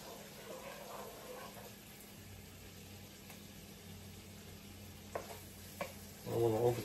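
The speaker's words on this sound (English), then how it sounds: "We're going to stir it around until the onion is a little translucent there" Chopped onion sizzling softly in a pan, a steady low frying hiss with occasional scrapes of stirring, and a brief voice near the end.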